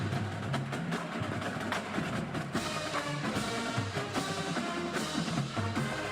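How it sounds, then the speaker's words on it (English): The Macy's Great American Marching Band, high school students performing Christmas carols on parade, plays a full brass-and-drum sound with steady percussion hits, heard at a moderate distance. "These star high school students now proudly perform Christmas carols on parade."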